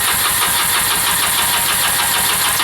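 A rebuilt Rancher 350 ATV engine cranks over with the throttle open, giving a steady, loud, close mechanical churning that continues without a break and with no voices.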